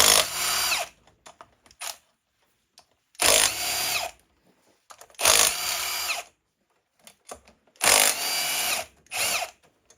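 Power tool spinning out cylinder head bolts on a Yamaha Grizzly 600 ATV engine during teardown, in four loud, close bursts of roughly one to two seconds each with short pauses between.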